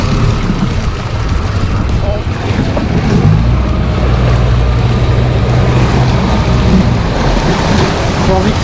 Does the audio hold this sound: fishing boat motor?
yes